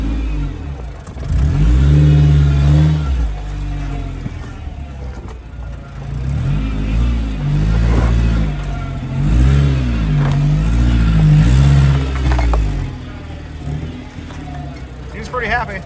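A manual car's engine revs up and down repeatedly through the gears while driving on old fuel, loud and close, with rising and falling pitch sweeps and a few brief words spoken over it.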